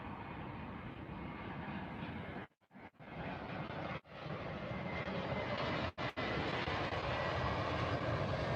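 A JetBlue airliner passes with a broad, steady engine roar, broken briefly by a few short dropouts and swelling slightly louder toward the end.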